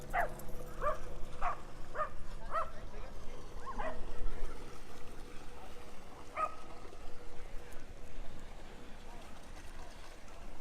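Dogs bark and yip outdoors in a burst of several sharp calls, then one more after a pause, heard under and among people chatting.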